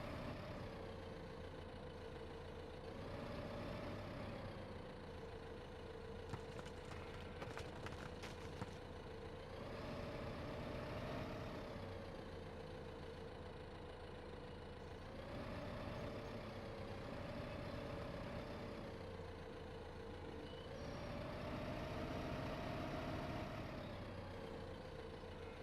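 A tractor hauling manure in Farm Sim 15 drones steadily, its engine a low continuous hum that rises and falls in pitch every few seconds as it works.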